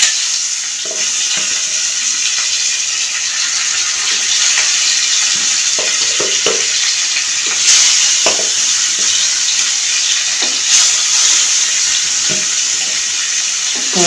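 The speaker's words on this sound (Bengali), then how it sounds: "মাছগুলো আমার ভাজার জন্য দিয়ে দিয়েছি এখন আমার মাছগুলো ভাজা হোক" Fish fry in hot oil in a frying pan, a loud continuous sizzling hiss with occasional pops and crackles and a few utensil clinks, no voices.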